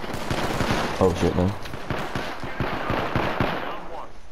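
Semi-automatic gun in Apex Legends firing a rapid string of sharp, evenly spaced shots through the whole moment, under a man's short spoken reaction.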